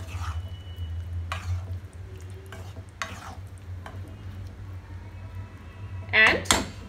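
Chopped capsicum and potatoes are stirred in a pan, giving soft scraping strokes over a low steady hum, then a brighter clatter of utensil against metal near the end.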